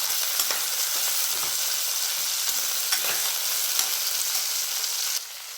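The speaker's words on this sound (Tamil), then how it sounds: "காலிஃப்ளவர், இது நல்லா எண்ணெயில் நல்லா குக் பண்ணி வச்சுருவோம்" Cauliflower fries in hot oil with a continuous bright sizzle and occasional pops, dropping noticeably quieter in the last moment.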